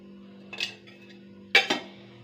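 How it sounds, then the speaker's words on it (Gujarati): Spoon clinks against a steel bowl while chutney, turmeric, coriander-cumin powder, salt and a little oil are mixed into a stuffing for okra, with two short bursts of scraping and tapping separated by quiet. "ચટણી હળદર ધાણા જીરું ને નિમક અને આમાં થોડુંક તેલ નાખવાનું અને મિક્સ કરી દેવાનું"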